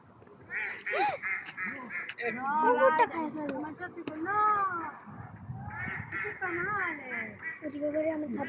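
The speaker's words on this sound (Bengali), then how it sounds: "কতগুলো হাঁস দেখছো" Ducks quack repeatedly in nasal bursts throughout, close by, with people talking over and between the calls.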